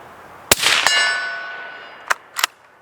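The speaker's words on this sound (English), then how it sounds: "The bullet hitting the plate is far louder than the report of the round going off." Rifle bullets from a Ruger American Scout striking a steel silhouette target plate about 100 yards away, heard as sharp metallic clangs that ring on briefly, one loud strike followed by fainter, quicker hits.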